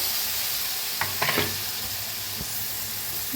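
A steady hiss of hot tempering oil as a green chilli paste is poured in runs throughout, with a brief burst of sputtering and a couple of soft knocks in the middle.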